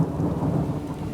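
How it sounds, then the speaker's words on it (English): Rumbling thunder rolls under steady rain in a building storm, a dense low roar filling the brief moment with no voices. "Out in the distance, a storm is building."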